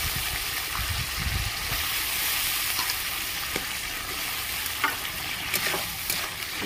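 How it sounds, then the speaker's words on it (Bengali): Gobindobhog rice and spices fry in a pan in a rustic kitchen, with a steady sizzling hiss and scattered scraping clicks as they are stirred, heard up close with no talking. "ভালো করে একটু নেড়ে চেড়ে নেব"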